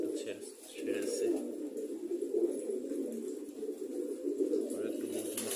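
Pigeons in a loft coo softly and repeatedly in a low, throaty rhythm, with a faint voice murmuring now and then.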